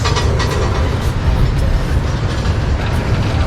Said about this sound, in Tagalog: Mabagal lang kasi takbo ng tren eh